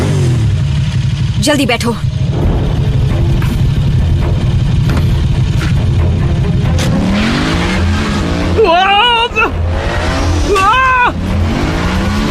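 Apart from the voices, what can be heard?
motorbike engine revving and skidding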